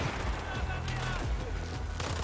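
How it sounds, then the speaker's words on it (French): Gunfire in Battlefield 4 on Xbox One, dense booming shots and impacts layered with chaotic battle noise, while someone talks over the action. "Putain, mais c'est qui me tire dessus comme ça là?"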